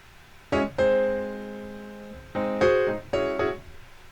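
Piano chords play a slow harmony as a beat is built, three sustained chords struck at even intervals, each ringing out and fading, clean and close with nothing else heard.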